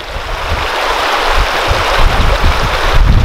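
River water flowing in the mountains of Mechuka, Arunachal Pradesh, a loud, continuous close rush of water with wind buffeting the microphone.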